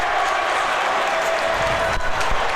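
Crowd at a varsity ice hockey semifinal between Long Beach and Bethpage roars steadily in the arena, a continuous wash of cheering and noise with a few thuds near the end.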